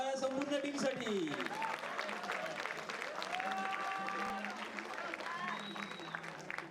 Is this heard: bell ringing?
no